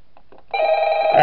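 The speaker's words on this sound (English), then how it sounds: "Alright, so we're getting a phone call." A telephone rings in the horror game Five Nights at Smash Bros: a loud, sustained electronic ring begins abruptly after a brief quiet moment and carries on steadily.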